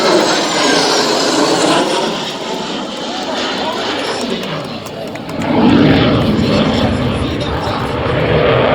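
An F-16 Fighting Falcon fighter jet flies an airshow demonstration at an air force base open house, its engine a loud, continuous roar that swells toward the end, with an announcer talking over it.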